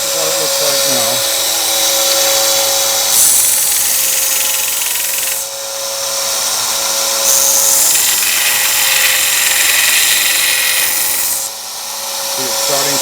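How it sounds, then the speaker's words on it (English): A small Delta belt sander runs loudly and close with a steady high-pitched whine, the pitch shifting slightly as work is pressed to the belt and eased off a few times. "this is a little Delta portable, or not portable, but small belt sander. Makes a lot of noise."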